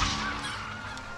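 Geese honking in the video game Surviving Mars, a steady run of nasal calls lasting about a second, fairly loud and up front with no talk over them.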